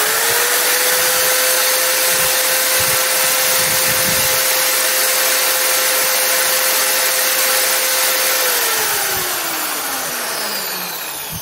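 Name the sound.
Yasuka electric wall drill running at maximum speed without load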